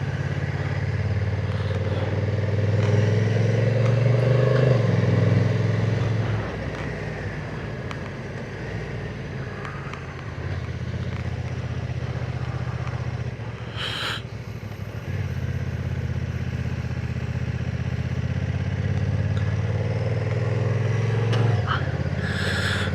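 A Honda NT1100 DCT motorcycle rides a hilly mountain road in Norway, with the engine droning steadily, rising briefly under acceleration, and wind rushing past, while a rider talks over it at times.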